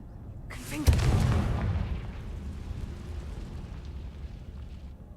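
A fire spell in the video game Hogwarts Legacy bursts with a single deep boom shortly after the start, followed by a long rumbling roar that slowly fades under steady background noise.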